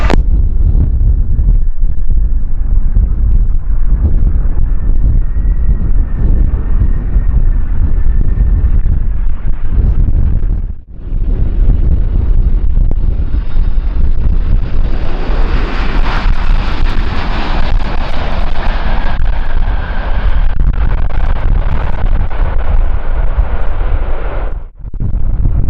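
Strong gusting wind roars across the microphone at Kagoshima airport as a plane takes off or lands in winds up to 39 knots, its jet engine noise swelling under the buffeting through the second half of a long, continuous stretch.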